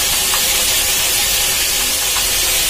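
Beetroot and carrot sizzle steadily as they fry in hot oil, a loud, constant broadband hiss with no breaks and no voices.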